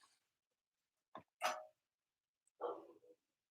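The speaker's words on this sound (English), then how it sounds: "I hear Luna barking." A dog named Luna barks a few times indoors, short separate yelps and woofs, fairly faint and heard from another room, with silence between them.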